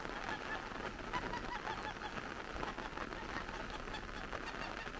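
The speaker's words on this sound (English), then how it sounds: "Ducks, geese are in their element." Geese honk and ducks call outdoors in steady rain, their overlapping cries repeating continuously through a dense, hissing wash of rainfall.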